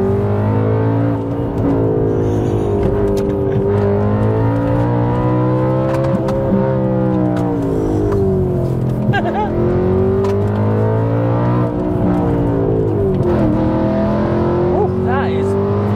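An Audi B7 RS4 engine revs hard through corners, its loud, close-up howl rising and falling in repeated sweeps as the car accelerates and backs off, with people talking over it throughout.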